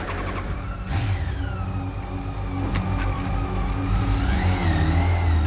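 A Yamaha FJR 1300 motorcycle, ridden as an emergency response bike, accelerates close by: a mid-pitched engine note rises and revs through several gear changes over steady road noise.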